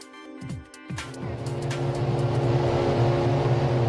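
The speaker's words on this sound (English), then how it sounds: "The sound of 22 cars revving up in the sunshine" Formula 1 race car engines at the 2008 Australian Grand Prix rev sharply in quick bursts, then settle into a loud, sustained drone of 22 cars.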